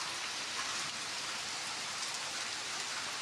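Unseasonable rain falls in the Konkan region of Sindhudurg, a steady, even hiss of rain on surfaces with no pauses or voices.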